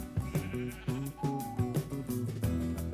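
A Minecraft sheep bleats repeatedly in quick, wavering calls, loud and close, with brief pauses between each cry.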